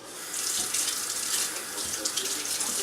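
Water runs from a kitchen tap as a carrot is rinsed under it, a steady close hiss of splashing for a few seconds.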